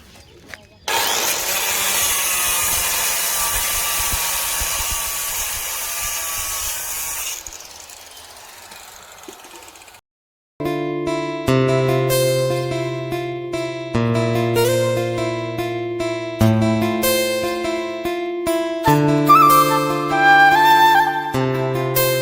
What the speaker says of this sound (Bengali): এখন এই রডগুলো এখন আমি নিজে বসে বসে কাটিং করবো।